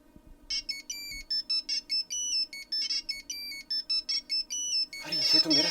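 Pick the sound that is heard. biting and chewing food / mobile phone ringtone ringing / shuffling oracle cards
mobile phone ringtone ringing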